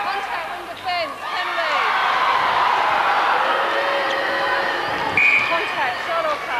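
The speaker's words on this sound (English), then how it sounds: "They're celebrating down in the crowd" The crowd roars and cheers at the end of the 1994 Australian national netball championship final between New South Wales and South Australia. It is a broad, sustained wash of noise lasting several seconds, with a commentator talking over it.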